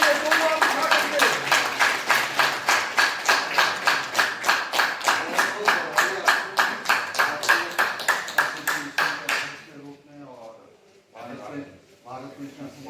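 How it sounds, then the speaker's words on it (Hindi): A hall full of people at a retired railway protection force association convention in Gorakhpur claps loudly in a steady, rhythmic beat for about nine seconds, then the claps stop and a voice speaks over faint room noise. "एक बार जबरदस्त ताली और जबरदस्त हो गई है।"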